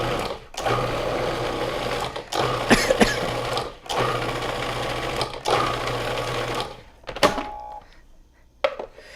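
A blender whirs through a pumpkin apple dip in several loud bursts, each a few seconds long, separated by short pauses, with the motor tapering off into quieter clicks at the end.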